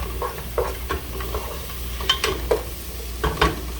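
Chili peppers being stirred into a pot of chili, a run of irregular scraping and clanking utensil strokes over a faint steady sizzle, close and fairly clear, with no voices.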